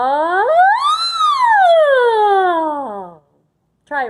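A voice imitating a siren in a vocal warm-up, one long sustained sweep that rises from low to a high peak and slides back down, loud and close, followed by silence and the start of another vocal sound.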